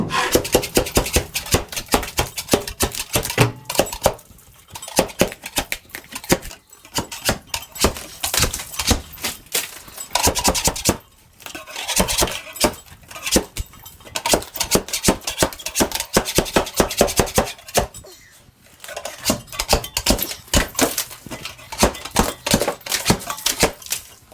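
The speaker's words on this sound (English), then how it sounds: "I'll just chip all of these cornices off quickly with this." A floor scraper chips plaster cornice off a wall in rapid, loud bursts of rasping, scraping strokes, pausing briefly between runs, close and alone without talk.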